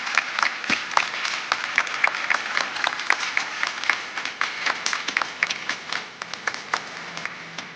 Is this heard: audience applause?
yes